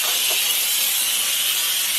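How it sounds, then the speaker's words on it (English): A handheld steamer releasing a continuous, loud, close hiss of steam, steady and unbroken for the whole stretch. "This is a good steamer, guys. Look at it. Okay. Steam away."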